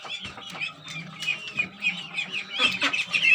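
Duck and chicken chicks eating leaves and grass, with a busy run of high chirps and peeps from several birds, close and continuous.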